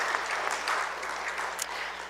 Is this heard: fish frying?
no